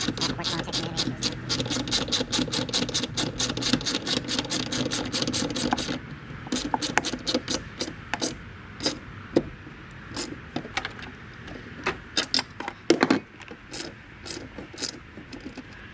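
Metallic clicks and ratcheting taps from a wrench tightening a strut tower brace nut on a 2021 Dodge Charger Scat Pack, quick rhythmic ticks that turn sparser and more irregular partway through, close up.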